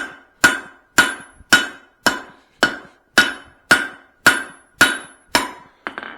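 Straight peen hammer forging a Swedish-style cross peen hammer head over a drift, ringing out ten loud, evenly spaced metallic blows about half a second apart, each with a bright ringing tail, followed by a lighter tap.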